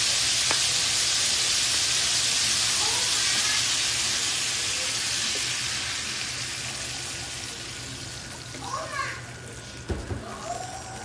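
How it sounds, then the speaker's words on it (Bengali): Water hits a hot pan of hilsa and eggplant curry, giving a loud, steady hissing sizzle that slowly fades, with faint voices and a few clatters near the end. "এবার আমি এতে জল দিয়ে দেব"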